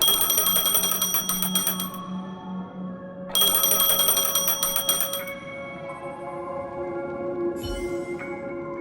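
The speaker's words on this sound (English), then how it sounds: "A phone." Phone ringing loudly in two bursts of a bright electronic ring with a pause between them, then a quieter tonal chime that fades out.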